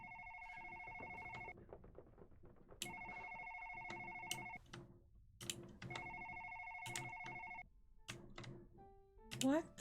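A telephone rings in repeated bursts of electronic trilling tones separated by pauses, loud and near, with a voice speaking in between and a brief rising chirp at the end.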